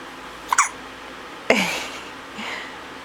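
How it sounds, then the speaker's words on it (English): Two distinct baby hiccups, close and clear, spaced about a second apart, followed by a soft breath in an otherwise quiet room. "he has the hiccups"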